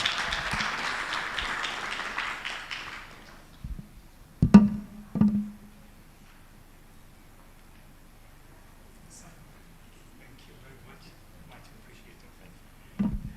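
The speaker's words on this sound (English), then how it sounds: "Please, let's appreciate Honorable Kama with a round of applause." A general assembly audience applauds for a few seconds, the clapping fading away into near silence broken by a couple of isolated knocks.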